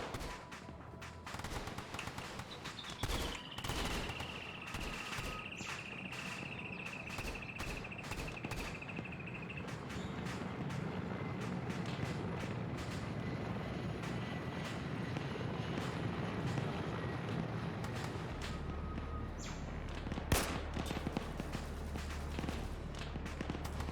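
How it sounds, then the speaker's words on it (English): Distant rifle and machine-gun fire crackles throughout a firefight in the video game Arma 3, with scattered single shots and sharp cracks over a steady rumble, and one louder blast late on that may be an RPG firing. "So we just heard an RPG fire."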